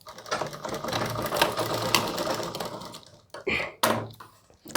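Sewing machine stitching the rounded neckline of a round-collar suit, a sustained fast rattling run followed by a few short, separated bursts as the curve is finished.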